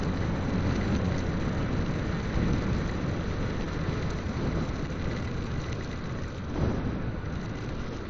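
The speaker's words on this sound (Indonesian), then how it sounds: "Ya, bulan Desember emang begini, hujan terus." Heavy rain pours down steadily during a December downpour in Central Java, a dense, loud roar with deep rumbling underneath that swells briefly, no talking.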